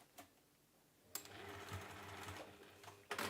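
A sewing machine runs in a steady close burst, basting elastic in place on a fabric book sleeve, starting after a short tap and stopping abruptly before a final clunk.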